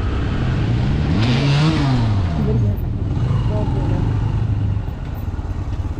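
Motorcycle engine on a slippery hill track, loud and close, with rising and falling revs as the rider climbs, while people talk over it throughout.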